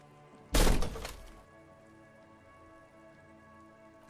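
A heavy door is bashed and cracks in the video game Disco Elysium. One loud, close impact with a splintering crack rings out and decays over about a second, then gives way to quiet ambient music.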